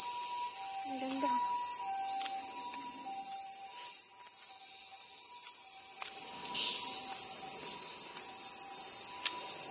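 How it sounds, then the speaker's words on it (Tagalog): Crickets and other insects chirp steadily in a wide park in Adachi, a constant high trill with a faint tonal whine, while a person speaks briefly near the start. "Marinig yung mga ingay ng mga insekto."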